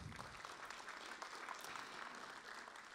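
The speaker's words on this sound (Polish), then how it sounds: "Brawa." Audience clapping at a formal gala honouring government ministers, a soft, steady patter of many hands heard from a distance and sustained evenly throughout.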